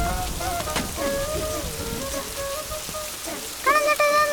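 Steady rain pattering on surfaces during a sunshower in a Kerala village movie scene, a continuous wash of drops with faint tonal background music running through it, no talk.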